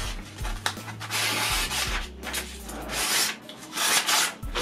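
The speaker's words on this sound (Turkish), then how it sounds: "Şimdi sizlerle bir kesme testini yapmak istiyorum ben." A 32 cm knife undergoing a cutting test, with repeated rough rubbing and scraping strokes of the blade drawn against material, close and fairly loud, with no speech.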